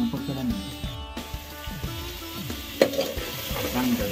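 Freshly caught stream crabs frying in a pan with ginger-garlic paste, a continuous close sizzle under repeated scraping stirs and a sharp clatter near the end, with some faint background noise.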